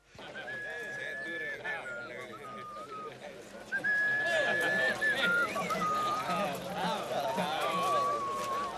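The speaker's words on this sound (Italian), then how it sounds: "Ehi ragazzo, che canzone stai fischiando?" A boy soldier on a hard march whistles a song, a clear melodic tune in two phrases separated by a short pause, carried over steady outdoor background noise.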